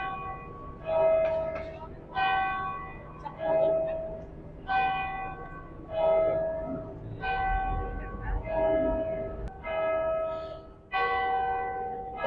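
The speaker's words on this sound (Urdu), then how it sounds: "اور یہ 10 منٹ 15 منٹ 1 گھنٹی بجتی ہے" A church bell at a 1,100-year-old church rings out in slow, evenly spaced strikes, about one every second or so. Each ringing tone sustains clearly over faint background noise.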